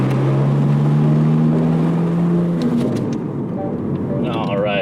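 Car engine droning from inside the cabin while approaching a freeway, with a steady low hum that shifts pitch as the car drives, and a voice speaking faintly over it.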